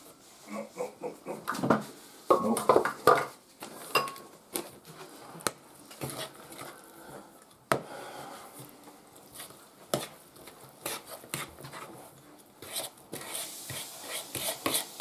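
Brownie batter being stirred by hand in a mixing bowl at a home kitchen counter, with uneven scraping, tapping and rubbing strokes of a utensil against the bowl, moderately close and without talk.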